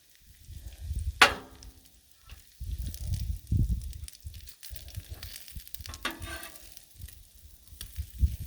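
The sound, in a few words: bacon sizzling on a griddle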